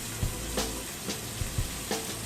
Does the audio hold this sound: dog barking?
no